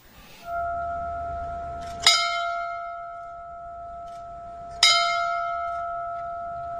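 A fire station bell tolls in tribute to fallen firefighters, two clear resonant strikes a few seconds apart, each ringing out and sustaining its pure tone between blows in an otherwise quiet setting.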